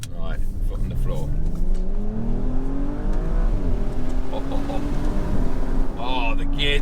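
2019 Audi RS5 Sportback accelerating at full throttle, heard from inside as engine tone climbs steadily through rapid gear changes, loud and continuous, with a voice speaking briefly over it.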